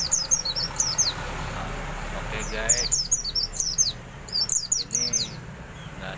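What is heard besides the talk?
chirping of a home-raised pleci bird (white-eye) sunning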